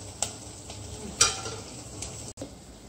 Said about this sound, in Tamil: அவரைக்காய் போட்டதுக்கு அப்புறம் ஒரு கிளறி கிளறி விட்டுக்கலாம்